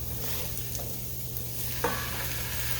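Home-canned tomatoes go into a hot pan, where a steady sizzle runs under a low hum and a sudden splash-like burst lands near the end, close and alone without speech.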